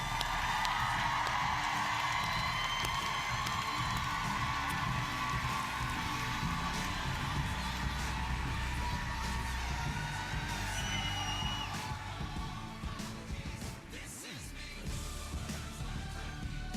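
A keynote audience at a conference gives a sustained, dense wash of applause and cheering. Steady loud clapping with scattered whoops carries throughout and eases slightly toward the end.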